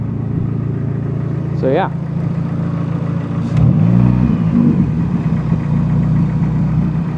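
A Dodge Neon engine idles with a steady low hum, then revs up sharply once and settles back, the revving rise and fall standing out clearly, with a brief spoken remark nearby.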